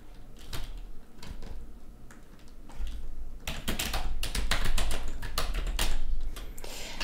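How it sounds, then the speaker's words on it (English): Typing on a computer keyboard, a quick irregular patter of key clicks, sparse at first and then denser and louder in bursts, close to the microphone with no talk. "Or maybe I will use the typing mechanism over here."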